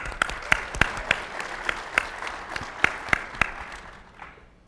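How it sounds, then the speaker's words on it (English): A small podcast audience claps for a guest arriving on stage, a short burst of distinct, fairly sparse handclaps that fades out after a few seconds. "Round of applause for Denise."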